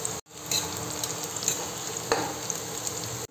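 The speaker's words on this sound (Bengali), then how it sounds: "এবার একটু আলু ভাজা করি।" Salted, turmeric-coated potatoes fry in ghee in a pan with a close, crackling sizzle, broken by a brief cut near the start and a few sharper spatters and stirring scrapes.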